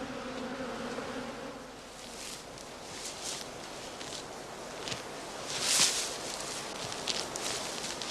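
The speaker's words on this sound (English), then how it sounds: "allow the bees unobstructed entry and exit during the day" Honeybees fly around the entrances of straw skep hives in a heather-season apiary, a dense steady buzz with passing louder flybys, outdoors and alone.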